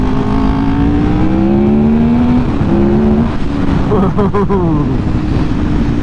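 Rumi Honda RC30 replica V4 racing motorcycle, the bike Fred Merkel raced in 1991, pulling hard under acceleration with a loud, rising engine note and a sharp shift of pitch near the end, with speech over it.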